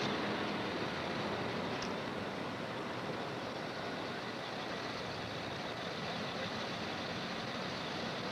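A truck engine on the highway, where trucks are checked and weighed, gives a steady, dense broadband rumble that stays even and fairly loud for the whole stretch, with no voices.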